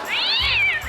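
A single cat gives a long, clear meow that rises and falls, close and loud, with no talk over it.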